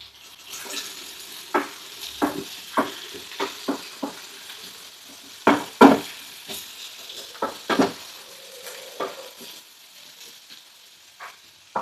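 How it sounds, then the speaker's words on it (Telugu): Chopped onions frying in oil for a fish curry gravy, with a steady soft sizzle broken by repeated close stirring scrapes and clatters of a utensil against the pan, and no voices. "ఉల్లిపాయల్ని కట్ చేసి ముక్కలుగా చేసి ఇలా నూనె వేసి వేయించుకుంటున్నాను"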